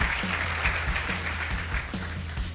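An audience claps for high school debate teams, a steady, even patter of applause sustained throughout, moderately loud and close.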